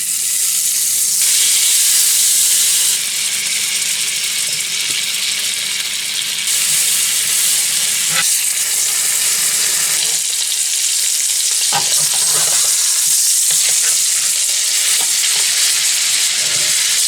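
Boneless Angus beef rib searing in a cast iron skillet, a steady loud sizzle and crackle of frying that holds for the whole stretch with small popping bursts, no voices.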